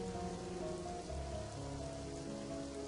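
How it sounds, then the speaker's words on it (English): Steady rain patters on a surface in a continuous, even wash, with no voices and no distinct thunder. "I love listening to the sound of rain"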